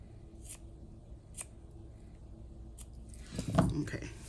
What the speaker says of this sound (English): I need some better scissors for cutting this ribbon.